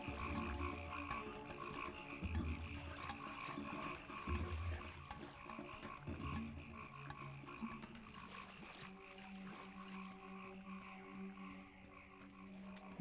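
Frogs croaking in the video game Pathologic: low, rhythmic croaks repeating every couple of seconds over a dense, steady layer of ambient game sound and faint ticking, with no talking.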